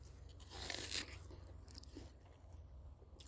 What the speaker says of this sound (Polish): Jabłko ma być twarde, chrupkie, które się nie rozpada w ustach, tylko żeby sobie pochrupać.